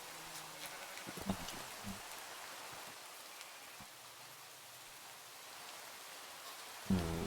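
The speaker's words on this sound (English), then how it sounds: "It's raining." Steady rain falling in modded Minecraft, a continuous soft hiss with occasional faint pattering, low and even throughout with a brief louder knock near the end, no talk.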